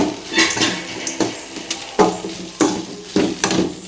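Crumbled idli and onions stirred in a pan for idli upma: a string of sharp metal spatula clanks and scrapes against the pan every half second or so over a light sizzle.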